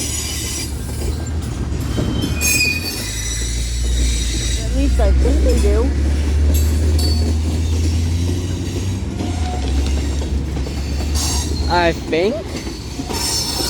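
A Union Pacific manifest freight train rolls past at Central Avenue, loud and close, with steady rumble and repeated high wheel squeals, while people talk over it.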